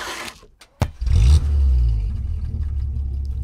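A pickup truck rolls over 3D printed cases: a sharp crack, then a low engine rumble and scraping clatter as the vehicle drives across, settling into a steady idle.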